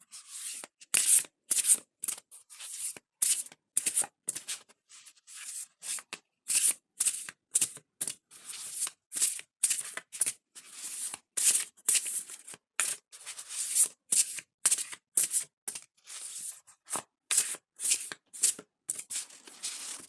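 A deck of oracle cards being shuffled by hand, with steady repeated bursts of crisp riffling and sliding card noise in a regular rhythm throughout, close and fairly loud, with no talking.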